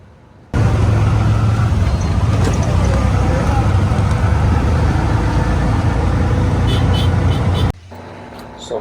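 Busy road noise from tricycle traffic in Zamboanga City, a dense and steady engine rumble that starts abruptly and stays loud for several seconds before cutting out, with voices faintly underneath.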